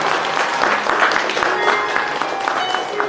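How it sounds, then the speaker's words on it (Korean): Audience clapping at a Vietnamese-Korean international wedding ceremony, a steady wash of hand claps lasting about three seconds with some voices and cheering mixed in. "큰 박수로 호응해 주시겠습니다."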